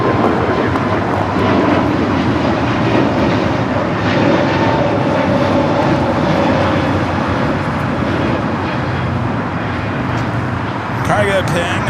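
A large airliner nicknamed the Queen taxis at LAX, its engines making a continuous loud roar with a rumbling low end that holds steady throughout.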